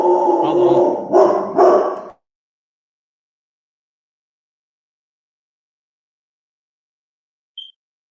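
A dog barks in a few loud, close bursts over the first two seconds, then goes quiet, leaving near silence apart from one faint short beep later on.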